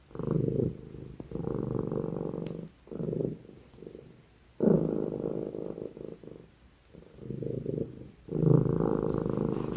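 Loud, close purring from a cat, rising and falling in long rhythmic waves with brief pauses between breaths.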